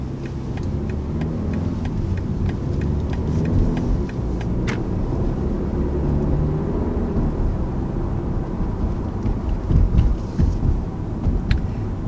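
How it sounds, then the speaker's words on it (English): A 2019 BMW 3 Series with its base engine and all-wheel drive pulls away hard from a stop, its engine giving a steady low drone inside the cabin with road rumble and a few light clicks. "So first taking off in the all-new 3 Series, definitely feels strong off the line."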